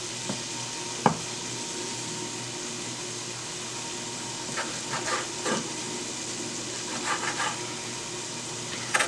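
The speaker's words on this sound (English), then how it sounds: "So the rest of this bacon chopped up, and then we'll just get that" Chopped bacon fries in a pan with a steady close sizzle and hiss, broken by a sharp clink and a few soft stirring scrapes.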